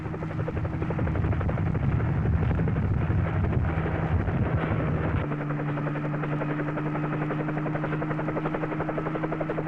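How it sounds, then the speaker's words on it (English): A helicopter at Cape Canaveral in 1963, rotor thump and turbine whine carrying steadily, loud and close, with the pitch of the engine tone shifting midway as it changes power, no talking over it. "The president then boarded a nearby helicopter for an aerial tour of the space launch areas"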